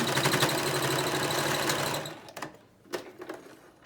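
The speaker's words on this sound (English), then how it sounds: "So I sew it 1 time down, and then I go back again a little bit further in, and I sew it again." A sewing machine stitches a fabric face mask with a fast, steady mechanical whir for about two seconds, close and loud, then stops and leaves a few quiet handling clicks and rustles.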